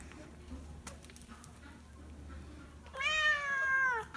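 A cat meows near the end, one drawn-out, wavering call that stands out clearly against a quiet indoor room after a few soft taps and rustles.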